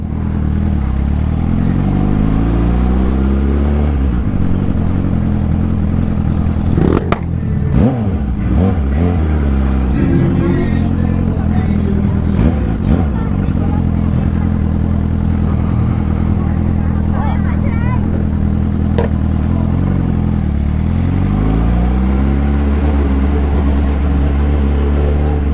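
A Suzuki SRAD 750 motorcycle revving and passing close by during a protest blockade, its engine climbing and falling in pitch, with a clattering burst partway through and people talking over it.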